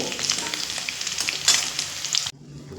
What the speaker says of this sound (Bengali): বাকি সয়াবিনগুলো একই পদ্ধতিতে ভেজে নেব